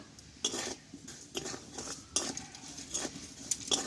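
Rice grains stirred with a metal spatula in hot salt in a pan to make puffed rice, giving repeated scraping clinks and rattling strokes at close range, with no talking.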